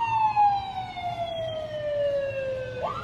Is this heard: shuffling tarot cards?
no